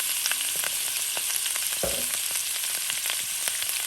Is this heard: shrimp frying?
yes